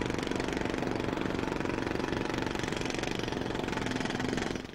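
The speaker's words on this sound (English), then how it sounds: "Loud machinery or tools." Loud machinery runs continuously, a dense steady engine roar with a fast rattling, jackhammer-like pulse that holds level for several seconds before easing off at the end, with no talk.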